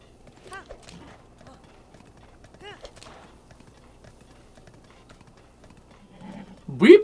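Horse hooves clip-clopping in The Legend of Zelda Breath of the Wild, a few light, spaced steps, followed by a short, loud horse whinny at the end, with a voice talking over part of it.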